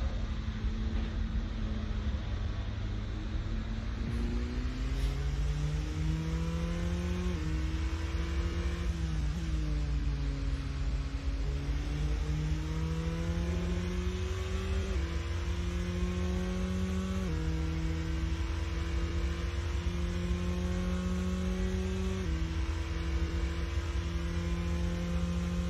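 Race car engine in the Assetto Corsa racing game on warm-up laps, a steady droning hum that climbs in pitch through several gear changes, each shift dropping the tone before it rises again, with no talking.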